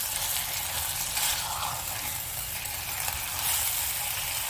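Chicken browning in a pan for Madrasi chicken curry gives a steady, close sizzle and crackle that holds at an even level throughout, with no voices.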